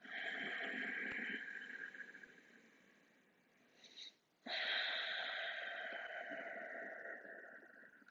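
Slow, airy breaths drawn in and out through the nose, close and steady, with a brief pause in the middle before the breathing resumes.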